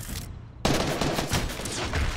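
Assault rifle fire in Fortnite on Xbox Series X: a short burst of sharp rapid shots opens, then a brief dropout and a dense crackling volley continues, loud and close, with no talking.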